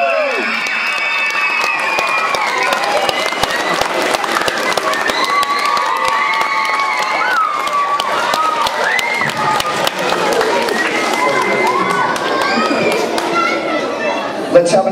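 A school spelling bee audience applauding and cheering after a correctly spelled word, with dense steady clapping and excited shouts from children and adults sustained throughout.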